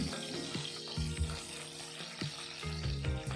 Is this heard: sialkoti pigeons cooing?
no